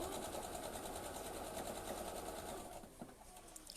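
A sewing machine runs steadily, stitching fabric for a bowl cover, its fast motor whir continuous and close before easing slightly toward the end.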